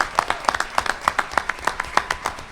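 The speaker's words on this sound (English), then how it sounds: "Let's give him a round of applause." An audience at an event for a high school class of 2014 applauds a panelist, with steady, rhythmic claps that sound fairly close and are not mixed with talk.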